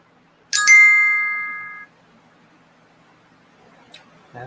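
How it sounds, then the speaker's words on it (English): A phone alarm sounds as a single bright chime with a ringing tone that holds for over a second and then stops, leaving a quiet room with faint small noises. "That's my phone."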